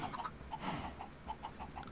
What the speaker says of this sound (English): the chickens wanted to lay a lot of eggs today